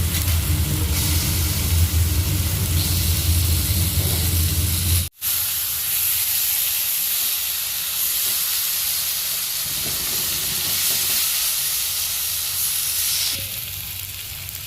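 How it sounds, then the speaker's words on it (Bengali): Fried bhetki fish pieces going into a hot, well-cooked spice paste in a pan, giving a steady loud hiss and sizzle that holds throughout, with a brief break partway. "এবার মা এর মধ্যে দিয়ে দিচ্ছে ভেজে রাখা মাছগুলো।"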